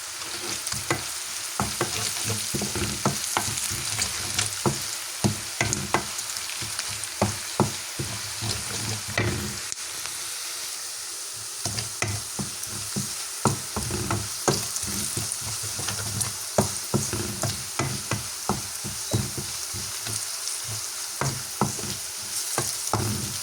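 Spices and peanuts frying in hot oil, with a continuous close sizzle broken by frequent sharp spoon scrapes and clinks against the pan.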